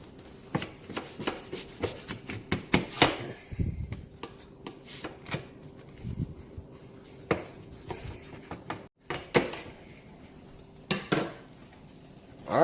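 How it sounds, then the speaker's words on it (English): A knife scoring lines across a pan of hot buttered cornbread, heard as a series of quiet scrapes and sharp clinks of metal against the pan, spaced irregularly with pauses between. "take your knife and you're just going to cut you some lines in it, just like this"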